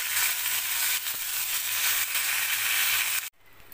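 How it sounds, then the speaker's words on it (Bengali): Tilapia fish fry in hot oil in a wok with a steady, loud sizzle and spitting crackle throughout, stopping abruptly near the end. "আমি আগে মাছগুলো ভেজে নিচ্ছি।"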